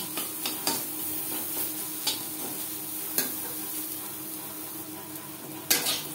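Sliced bitter gourd fries in oil in a pan, giving a steady low sizzle broken by a few sharp utensil clicks and scrapes against the pan.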